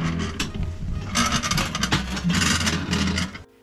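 A mani prayer wheel turns at Hase-dera temple in Kamakura, giving off a close, rough scraping rumble with a rattling rhythm. It runs for over three seconds, then stops abruptly.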